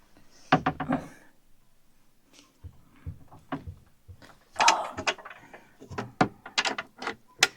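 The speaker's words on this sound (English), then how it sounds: "Then we've also got a big sliding drawer here" A big sliding drawer in a 22ft Deluxe Caravans Riptide caravan is pulled open, giving a series of close clunks, rattles and sliding scrapes in irregular bursts with short pauses between them.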